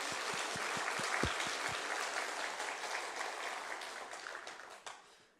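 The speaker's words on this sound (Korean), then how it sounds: "우리 박수로 좀 영광을 올려드립시다" A church congregation claps during an afternoon worship service, a moderate wash of many hands heard from some distance, a few sharper claps standing out before the applause thins and fades away at the end.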